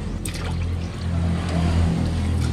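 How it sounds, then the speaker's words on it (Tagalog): Water is poured from a container into a saucepan, making a steady trickling pour that lasts throughout and stays close and fairly loud. "Maglagay ng 2 liters ng tubig sa kaserola"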